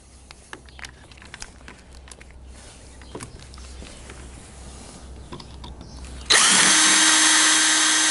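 A power drill bores holes into an early-type transmission seal. Scattered clicks and handling noise come first, then the drill bursts in loud and sustained for the final seconds.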